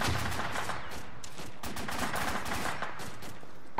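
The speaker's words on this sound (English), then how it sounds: "That sounds like a PKT, so we need to get that." Sustained PKT machine gun fire in a military video game, a dense unbroken stream of rapid shots filling the whole stretch, loud and continuous with no pauses or voices.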